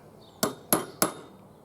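Three light, sharp metallic taps on a center punch resting on metal, spaced evenly about a third of a second apart, close and crisp, with brief ringing after each strike and no talking.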